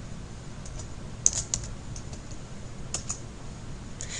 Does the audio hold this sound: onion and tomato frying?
no